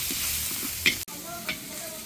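Onions go into a pan of frying garlic, giving a steady close sizzle with a few stirring scrapes and a sharp clack from the utensil.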